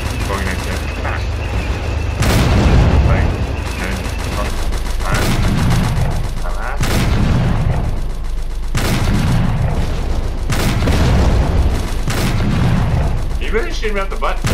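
Heavy booming explosions in the Roblox tank simulator game, a string of loud blasts recurring every couple of seconds over continuous rumbling battle noise, with a voice talking underneath.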